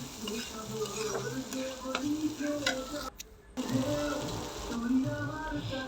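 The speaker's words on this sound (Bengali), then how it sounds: "এখন আমি হালকা একটু কষিয়ে নিব।" Lentils with chili powder and spices fry in a pan in a home kitchen, giving a faint, steady sizzle broken by repeated scraping stirs and a brief pause partway through.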